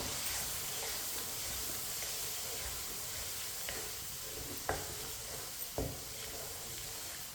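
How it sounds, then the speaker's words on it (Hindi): Cut, washed potato pieces fry in a pan with a steady close sizzle and hiss, broken by a few light clicks as a spoon stirs them. "आप इसे भी 2-3 मिनट के लिए चम्मच चलाते हुए भून लेंगे, फ्राई कर लेंगे।"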